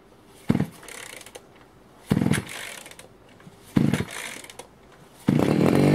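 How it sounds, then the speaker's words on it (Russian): A small two-stroke engine of a Patriot petrol grass trimmer sputters briefly three times with pulls in between, then catches and runs at a steady high buzz, close by. "Как видим, триммер завелся без проблем."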